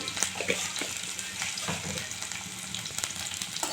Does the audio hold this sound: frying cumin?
yes